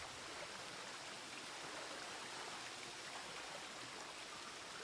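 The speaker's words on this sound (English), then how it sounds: "There's like a couple waterfalls." Waterfalls in a cave in The Witcher 3: Wild Hunt, a steady broadband rush of falling water that holds constant and fairly faint, with no pauses or other sounds.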